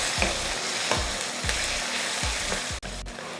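Onions and crushed garlic cloves sautéing in a pan, a loud continuous sizzle with a regular series of low thumping stir strokes roughly every half second, close up, no speech.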